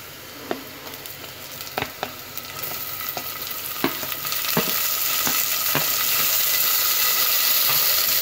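Chopped tomatoes drop into onions frying in a clay pot for a dried-fish curry, with sharp scrapes and taps from the spoon at first, then a loud, steady sizzle that swells and holds, with no talk.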